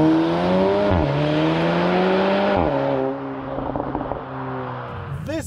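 A 300 hp VW T-Roc R fitted with an Akrapovic titanium exhaust accelerates hard, its loud, close engine note climbing through two gear changes before easing off and settling.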